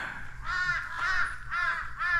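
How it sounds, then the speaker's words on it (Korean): Magpie calling outdoors in the morning at a countryside glamping site, a few harsh chattering calls in a steady rhythm, moderately near over a quiet background. "아침 까치 소리가 정겹습니다"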